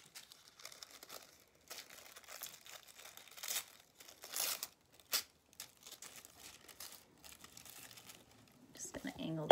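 Sheets of tissue paper are crumpled into a ball for a cherry blossom windsock craft, producing close, irregular bursts of crinkling and crackling with quiet pauses between them.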